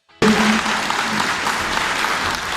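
An audience at a BJP Scheduled Caste conference in Chhatarpur, Mehrauli district, applauds MP Ramesh Bidhuri: after a brief quiet, loud clapping bursts in suddenly and holds steady, with no speech over it.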